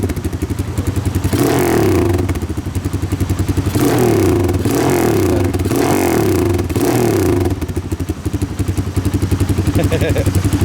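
Motorcycle with a fresh Orion exhaust silencer idles with a rhythmic chug, then blips the throttle into three or four loud, close revs that rise and fall before settling back to idle.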